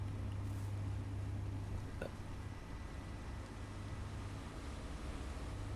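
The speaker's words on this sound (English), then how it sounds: "Hearing all these engines, we should probably turn some of these off" Many engines run in a video game, making a steady low hum that stays constant and fairly quiet throughout, with no voices.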